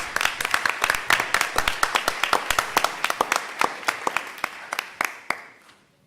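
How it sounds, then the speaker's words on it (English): Audience applause at a school board meeting for a high school robotics team, a scattered burst of hand claps that thins out and fades over about six seconds. "everyone give them a round of applause"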